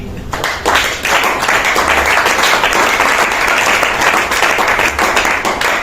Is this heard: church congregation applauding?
yes